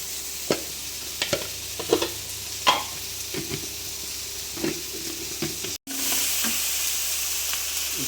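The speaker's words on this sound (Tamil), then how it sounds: "எல்லாத்தையும் ஆட் பண்ணிடுவோம் ஆட் பண்ணி ஒரு ஃப்ரை பண்ணுவோம்" Chilli powder masala frying for prawn masala, a steady close sizzle with scattered clicks and scrapes of a spoon stirring through it, briefly cut off near the end before the hiss returns.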